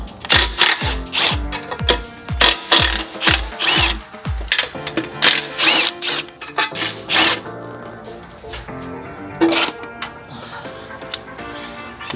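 Metal tools and fittings being worked while assembling fuel lines for a Subaru STI with a 3.3L flat-six, a quick run of sharp rhythmic rasping strokes followed by scattered clicks and handling noises, close up.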